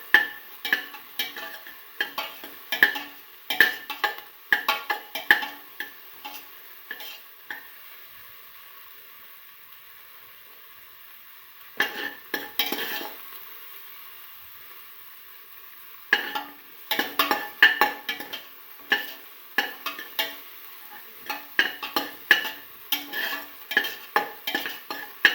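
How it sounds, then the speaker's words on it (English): Ingredients for a spiced pigeon pea and rice stew sautéing in a pan, with bursts of rapid spoon scraping and clinking against metal over a low sizzle, broken by a quiet pause midway before stirring resumes. "Keep on sauteing."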